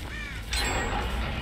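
Crows cawing in Dead by Daylight near a generator, one short harsh caw followed by a metallic clang over a steady low rumble of game ambience.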